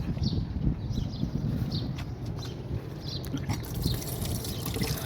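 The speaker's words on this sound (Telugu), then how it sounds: "ఈ విధంగా అయితే ఉంటాయి కూలింగ్ డ్రింకింగ్ వాటరు మనకి డిస్పెన్సర్లు" Cooling drinking-water dispenser in Kuwait running water, a steady close splashing trickle that continues throughout under faint background noise, with no talking.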